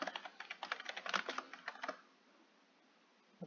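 Rapid clicking of a computer keyboard, close and crisp, in a steady burst of keystrokes lasting about two seconds before falling quiet, with a faint noise returning at the very end.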